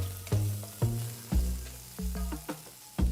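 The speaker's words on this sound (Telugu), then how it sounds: "తర్వాత ఇందులో తరిగిన ఒక టొమాటో వేసి వేయించాలి" Chopped tomato fries in a pan with cumin, ginger and green chillies, a close hissing sizzle broken by repeated spoon stirs and knocks against the pan.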